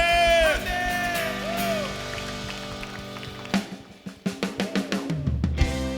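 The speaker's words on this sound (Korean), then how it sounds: "신실하신 하나님 앞에 다시 한번 감사와 영광의 박수 올려드립시다" Church congregation clapping during a worship service, the sharp claps arriving in a steady quick rhythm after sustained singing and music fade out, moderately loud in a large hall.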